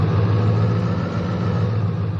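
Loud truck engine idling in a farming video game, a steady droning rumble with a low even hum throughout.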